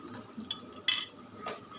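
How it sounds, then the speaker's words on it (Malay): Rice flour mixed with water poured into a pot for a cooking sauce, a few brief splashes and clinks of metal, quiet and close. "Sekarang saya letakkan air tepung beras."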